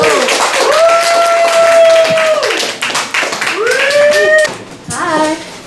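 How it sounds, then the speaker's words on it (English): An audience gives a round of applause at a live confessions storytelling show, with close clapping mixed with rising whoops and cheers that fade toward the end. "Give them a round of applause"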